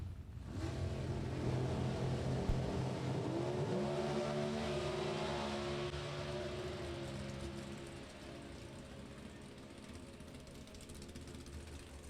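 Alcohol-fueled dragster and funny car engines roar at a drag strip, a sustained loud rumble with rising and shifting pitch as the cars run, fading slightly toward the end, with no talk.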